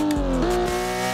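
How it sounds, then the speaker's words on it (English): A Ken Block Hoonipigasus Porsche in the racing game Assetto Corsa roars loud and close, its steady engine tone dipping and shifting pitch partway through as a gear changes. "I'm just listening to the sound of the engine"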